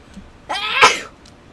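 A single close, loud sneeze bursts out against a quiet room during model assembly, then fades quickly.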